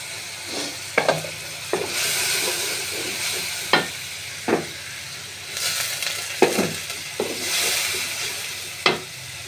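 Ginger garlic paste and ground cumin sizzle in a hot pan, a constant hiss punctuated by sharp spoon taps and stirring clatters at irregular intervals, close up and without speech.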